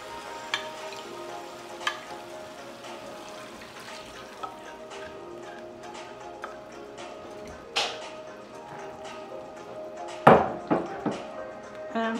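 Fish stew for Brazilian moqueca sizzles and bubbles in a pan as lime, wine and broth go in, with a few clinks and a louder splashing burst near the end.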